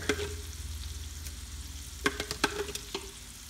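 Garlic fries with beef short ribs in a pan under a steady close sizzle, with a few sharp scrapes of stirring toward the end.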